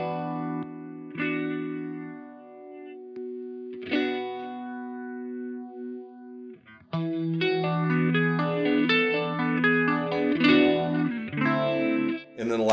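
Electric guitar played through a phaser effect pedal in a direct pedalboard setup, sustained chords and a few struck notes at first, then busier, denser strummed playing with a swirling, effected tone, moderately loud and alone.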